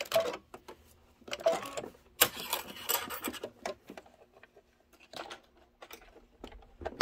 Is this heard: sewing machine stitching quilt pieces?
yes